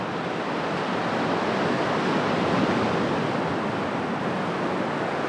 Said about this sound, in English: That's a big lump of swell right there.